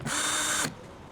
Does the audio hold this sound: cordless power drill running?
yes